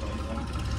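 A tractor engine passing near a roadside tea stall, a steady low mid-range rumble that is close and continuous for under a second.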